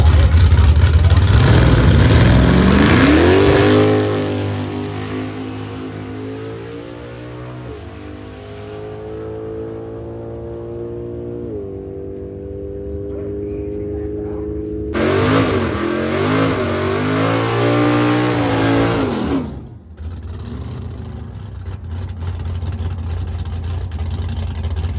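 A drag racing street machine, rebuilt after a broken camshaft, roars off on its first pass with a loud launch, then a long high-revving run through gear changes fading into the distance, followed by another loud engine burst nearby.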